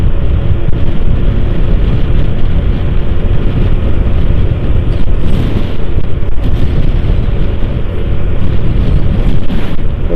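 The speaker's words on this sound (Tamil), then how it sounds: "இன்னைக்கு என்னன்னு தெரில காற்று கொஞ்சம் ஓவராக இருக்குது" Strong coastal wind between Pattukottai and Muthupet in Tamil Nadu buffets the microphone continuously, a loud, roaring rush with no letup throughout.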